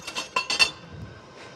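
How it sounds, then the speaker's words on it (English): A metal whisk stirs dry flour with ginger, cinnamon and baking powder in a bowl. It makes a few quick, light clinks against the side, then goes quiet. "You're gonna whisk that all up so that all the ingredients are combined"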